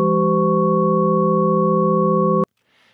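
Several steady electronic tones sound together as one combined, non-repeating waveform, a loud sustained buzzy chord that cuts off abruptly after about two and a half seconds, followed by a faint murmur.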